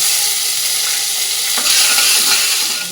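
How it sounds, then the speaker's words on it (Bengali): Cumin seeds, a dried red chilli and curry leaves crackle in hot oil, giving a loud, continuous hiss that swells slightly midway as the tempering is stirred. "তেলের সাথে কারি পাতা জিরে শুকনো লঙ্কা এটার মধ্যে দিয়ে দিলাম"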